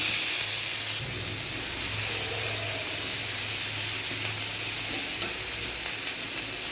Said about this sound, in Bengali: কড়াইতে সর্ষের তেল দিয়ে দিচ্ছি। এবার পেঁয়াজগুলো ছেড়ে দিচ্ছি।